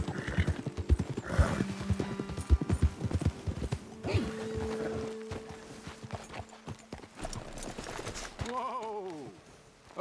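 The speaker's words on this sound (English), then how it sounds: "Best leave the horses back a bit." Horses in the Red Dead Redemption 2 video game clop along with uneven hoofbeats, then slow to a stop. Mid-range tones sustain for a stretch, and a horse whinnies near the end.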